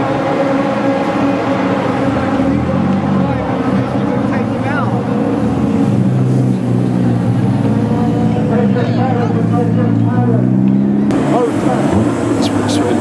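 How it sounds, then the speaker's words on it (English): A racing truck at the Brands Hatch circuit roars past loudly with a sustained engine drone that rises and falls, while people talk nearby. "MC truck passing."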